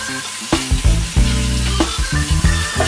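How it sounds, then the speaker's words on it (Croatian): Garlic dropped into hot olive oil in a pan, a loud close sizzle that bursts in after a moment of quiet and crackles on with repeated spatter and stirring knocks, no talk. "Ovdje ću na malo maslinovog ulja staviti češnjak da pusti svoj okus i aromu u maslinovo ulje"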